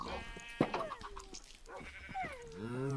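Sheep bleating in the Minecraft survival game, several short wavering bleats close by, with no talk over them.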